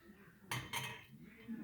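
Metal strainer and spoon clinking against a pot while preparing a Jamaican rum-based flu remedy: two sharp metallic clanks close together, then quiet kitchen ambience.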